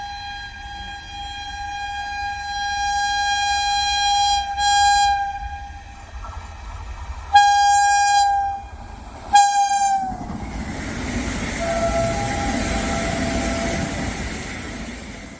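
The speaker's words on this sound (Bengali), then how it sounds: "ট্রেন এক এক সময় এক এক রকমের হর্ন বাজিয়ে সংকেত দেয়" An Indian Railways train horn sounds loudly in long sustained blasts, followed by two short sharp honks, then gives way to the low rumble of the passing train.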